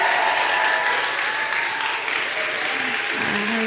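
Full, sustained applause from a congregation at a church women's prayer meeting, dense and steady at close range throughout.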